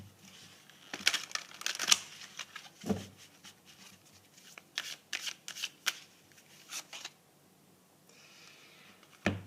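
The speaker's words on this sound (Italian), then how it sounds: "fammi mettere un'altra carta e adesso ti dico" Tarot cards being shuffled and laid down on a table, with bursts of riffling flutters followed by soft slaps and taps as cards are placed, close and fairly quiet with pauses between.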